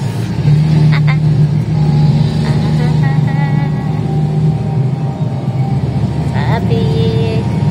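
Steady road-traffic rumble and engine drone from inside a moving vehicle at night, continuous and fairly loud, with a few brief higher tones and passing-vehicle swells, no talk.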